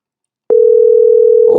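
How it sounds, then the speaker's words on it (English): A telephone line rings out on a call during a talk show: after half a second of silence, a single steady, loud ringback tone holds alone, with voices beginning to come in at the very end. "Oh, we hear it ringing."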